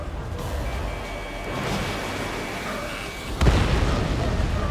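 A missile strikes an enemy aircraft in Ace Combat 7, landing as a sudden booming explosion burst over a steady roar of jet engine and wind noise, with the rumble lingering afterward.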